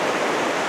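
The Carbon River at Mt. Rainier, a modest, not-too-wide channel running steadily, gives a close, continuous broadband rush of flowing water with no pauses or voices.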